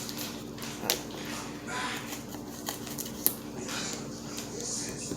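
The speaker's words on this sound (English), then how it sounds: "cut them into like small sizes like this" An aloe vera leaf being cut into small pieces on a cutting board: a steady run of soft, moist slicing and snipping sounds with a few sharper clicks, close and fairly quiet.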